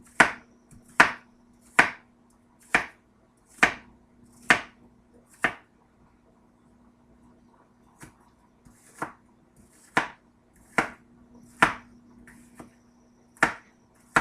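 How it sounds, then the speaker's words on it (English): An onion cut into little pieces with a knife on a board, about a dozen crisp separate chops in a steady rhythm, briefly pausing midway before resuming, close and clear with no talking. "if you bought these kind of onions like in the store, what you're gonna do is you're gonna cut it into little pieces"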